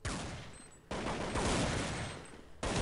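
Gunfire rings out during a competitive Counter-Strike match as a player lands a flick headshot; three sharp bursts of shots fire in quick succession, each followed by a short decaying echo, fairly quiet overall.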